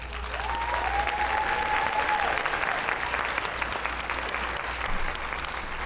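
Steady, dense applause from an audience at an adult high school and high school equivalency graduation ceremony, sustained for about six seconds with broad crowd wash and no talking over it.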